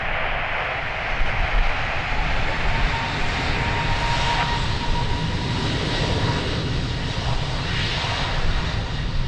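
A large airliner rolls down runway 02 at Lisbon Airport for takeoff, its engines producing a loud, steady broadband roar with no breaks, heard from a distance on the airfield.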